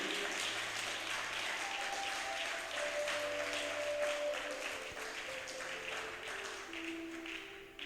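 A church congregation at a night prayer and deliverance vigil claps and cheers steadily, dense sustained applause with raised voices filling a large room, slightly distant.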